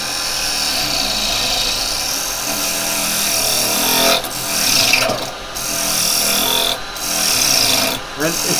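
A turning tool cuts a spinning wooden workpiece on a wood lathe and stalls it: a loud, steady rasping cut that drops out briefly several times as the work stops, then resumes.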